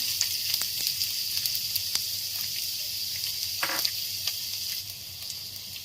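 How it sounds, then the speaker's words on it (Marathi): Steady, loud sizzling of sliced onions frying in hot oil for a cashew, paneer and green pea curry, with occasional crackles and pops. "गोल्डन ब्राउन होईपर्यंत आपल्याला हे फ्राय करून घ्यायचं आहे"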